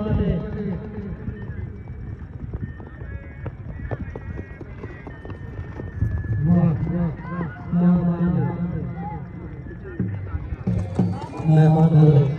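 Horses dance at a horse fair at Fort Abbas, their hooves clopping steadily beneath loud announcer talk and music, with the rhythm growing busier toward the end.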